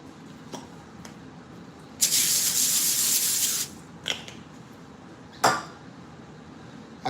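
Cooking spray hisses from a can onto a pan in one steady burst of about a second and a half, with short clicks and a brief second puff afterwards in a quiet kitchen.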